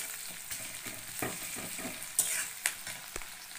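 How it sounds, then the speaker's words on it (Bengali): Onions frying in a pan while being stirred, a soft close sizzle with repeated scraping strokes and a few sharper utensil clicks, quiet and without voices. "ভালো করে নাড়িয়ে দিতে হবে।"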